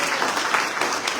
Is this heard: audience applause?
yes